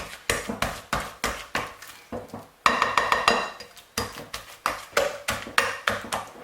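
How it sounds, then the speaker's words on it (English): Four bananas are mashed in a bowl with rhythmic, steady strokes of a utensil that clink and tap against the bowl, coming in quick regular bursts with short pauses between. "So our 4 bananas are already in the bowl and we're just going to smash everything."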